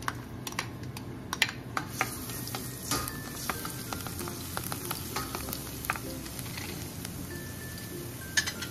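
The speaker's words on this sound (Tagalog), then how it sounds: "Unahin ko yung bawang kasi gusto ko siyang tustahin" Garlic toasting in hot oil in a pan for a Filipino sautéed shrimp paste dish, giving a steady close sizzle with scattered crackles and spatters and a few light utensil clicks throughout.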